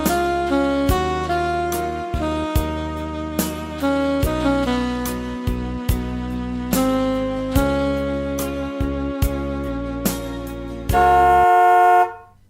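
A car horn honks repeatedly in short bursts of varying length, loud and close, ending in one long sustained blast, with no talking.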